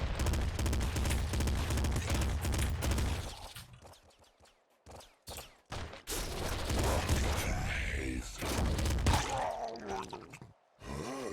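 Gunfire in the Nuclear Throne video game, loud rapid bursts of shots that come in clusters with short gaps, backed by game effects.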